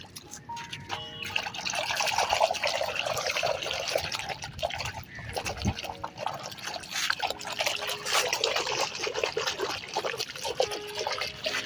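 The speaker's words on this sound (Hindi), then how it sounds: "एक बाल्टी है हमारे पास, हम लोगों ने इसमें सर्फ़ को कल्टी कर दिया, झाग बनेगी" Surf detergent is swirled into water in a bucket, producing continuous sloshing and splashing with a few light knocks against the bucket, close and fairly loud throughout.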